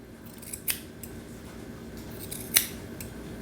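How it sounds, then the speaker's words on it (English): Curved grooming scissors trimming a dog's bangs at the corner of the eye, giving two crisp, close snips about two seconds apart over a quiet background. "take the curved scissors here at the corner of the eye and cut it away"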